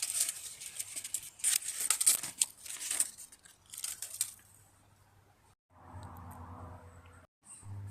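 Bug-infested alocasia plant leaves are cut and handled: a run of crisp snips, crinkly tearing and rustling of leafy stems up close, busy at first, then quieter, ending in a few soft thuds and low handling noises.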